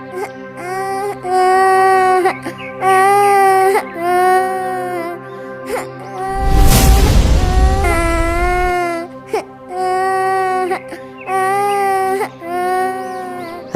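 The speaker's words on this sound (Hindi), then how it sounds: "इस घने जंगल में बच्चे के रोने की आवाज" An infant wails in a dense forest, loud and close, in repeated drawn-out sobbing bursts with short gasping pauses, and a heavy low rumble swells through the middle of the crying.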